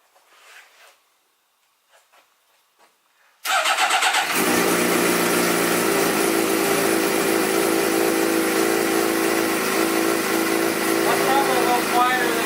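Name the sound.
Suzuki GSX-R motorcycle engine running with straight pipes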